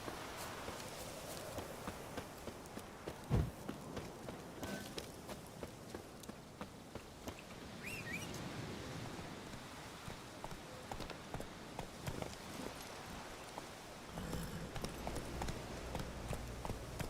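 Hooves of Roach, the horse in The Witcher 3, a quiet steady clip-clop of walking steps over a soft ambient bed, with a faint louder knock partway.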